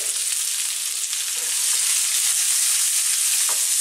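Onion and chili sautéed in a pan with ginger for sweet and sour tilapia, a dense, even sizzle that holds steady throughout, close up, with a couple of faint stirring knocks.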